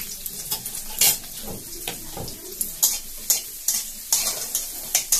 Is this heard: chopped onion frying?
yes